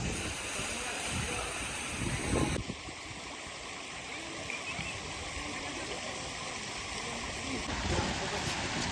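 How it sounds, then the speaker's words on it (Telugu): Fresh water is released into a temple bathing tank, rushing and splashing in a steady, full wash of flow that stays close and fairly loud throughout, with a shift in texture partway through. "ఫ్రెష్గా వాటర్ ఇప్పుడే వదులుతున్నారు."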